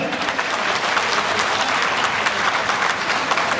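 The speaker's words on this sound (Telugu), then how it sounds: "గట్టిగా చప్పట్లు కొట్టేవాళ్ళే" A large audience applauds loudly and continuously at a public speech, dense clapping filling the whole stretch without a break.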